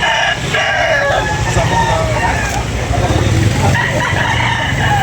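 A rooster crows loudly and close at a chicken sale, its harsh call drawn out across the clip over a steady background murmur.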